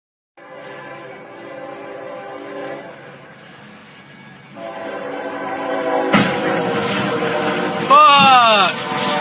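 Train closing in on a truck stalled across the tracks, a sustained tonal horn blast growing louder, then a sharp impact crash and screeching metal near the end.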